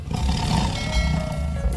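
A toy tiger gives a loud, continuous electronic roar that fills the whole stretch, harsh and dense, with no talking over it.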